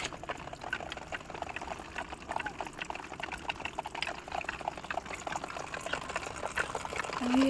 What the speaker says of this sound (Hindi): यहाँ से ऐसे स्टोर करके पानी नीचे जाता है।